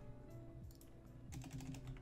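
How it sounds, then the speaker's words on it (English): Someone types on a computer keyboard, a quick run of soft, close key clicks that grows busier toward the end, with no talking. "So what I do is you just type it in 1440."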